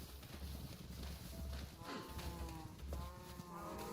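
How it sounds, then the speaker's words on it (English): Cows in the video game Forever World give a few drawn-out moos over a steady low farmyard background, with a voice talking faintly at times. "Look at all these cows."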